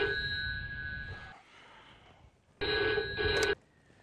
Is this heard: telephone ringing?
yes